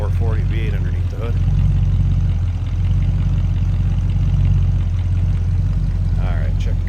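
A 1972 Chrysler Imperial LeBaron with a 440 V8 runs steadily, its low engine drone continuous and fairly loud throughout, with a couple of brief higher sounds passing over it.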